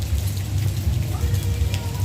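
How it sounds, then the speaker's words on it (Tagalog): Heavy rain pours steadily outdoors near Novaliches, Santa Rosa, Laguna, a dense, constant hiss of drops close by with a low rumbling undertone and no gaps. "Lakas ng ulan, grabe."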